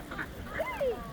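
A goose near pigeons in a park gives a couple of short honking calls, close and moderately loud over faint background chatter.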